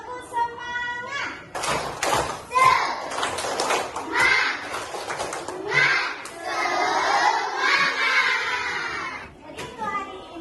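Schoolchildren in a classroom clap and chant the rhythmic tepuk semangat routine in loud bursts, mixed with shouting and a teacher's voice in between.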